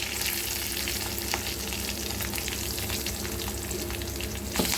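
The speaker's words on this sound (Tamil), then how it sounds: "அந்த விழுதை இதில் போட்டு நல்லா வதக்கிக்கலாம்" Ground drumstick-stem paste sautéing in a pan for rasam, a steady dense sizzle and crackle of frying throughout, close and continuous with an occasional stir.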